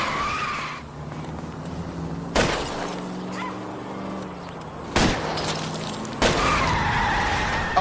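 A car skids during a chase in the video game L.A. Noire: a loud, continuous engine roar and tire squeal broken by three sharp crash impacts with glassy rattles.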